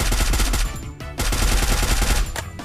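Rapid bursts of automatic gunfire in a video game rattle loudly and almost continuously, with one brief pause near the start.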